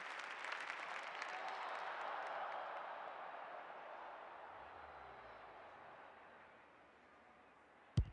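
Broad, steady roar of a stadium crowd cheering at a women's Australian rules football finals match, loud and sustained before slowly easing, ending with a sharp thump.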